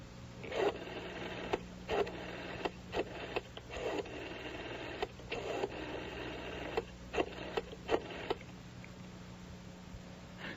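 A telephone number is dialed as a call is placed to an office's direct line: a series of distinct touch-tone beeps in uneven groups over a steady low hum, then a quieter stretch at the end.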